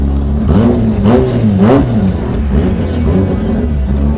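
A Volvo wagon fitted with a quad-rotor rotary engine idles close by, a steady, loud, lumpy mid-range drone with a few brief rises in pitch like light blips of the throttle.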